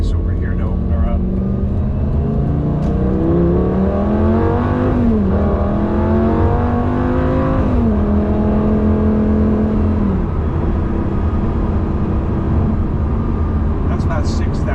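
Lamborghini Gallardo accelerating hard, the engine note climbing through the revs across two pulls with a dip between them, loud and close as if from inside the car, under no talking.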